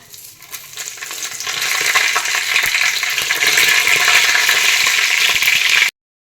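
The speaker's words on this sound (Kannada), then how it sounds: "ಜೀರಿಗೆ ಸಾಸಿವೆ ಚಟಪಟ ಅಂದಮೇಲೆ ಸ್ವಲ್ಪ ಕರಿಬೇವನ್ನ ಇದೇ ಹಂತದಲ್ಲಿ ಹಾಕ್ಕೋಬೇಕು" Cumin and mustard seeds splutter in hot oil, starting as a soft hiss and swelling within two seconds into a loud, constant crackling sizzle with scattered pops, then cutting off abruptly.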